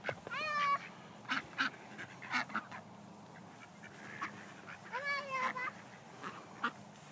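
Ducks being fed by hand call out in two bursts of nasal quacking, fairly close, with quieter scattered calls and a faint low hum in between.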